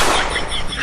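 A loud gunshot effect in a comedy sketch, a sharp dense burst of noise filling the whole clip with no speech, its tail slowly decaying.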